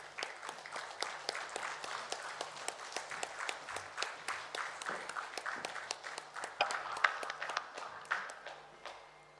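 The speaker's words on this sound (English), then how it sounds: "So a big round of applause as we release the manual." Quiet, sparse audience clapping at a manual release ceremony, individual claps sounding as distinct, rhythmic taps from a smallish crowd, steady throughout at moderate distance.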